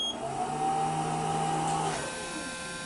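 A plugged-in vintage photo booth powers up with a steady electrical drone and a rising whine that cuts out near the two-second mark. The machine hum carries on afterward, close and fairly loud, with no voices.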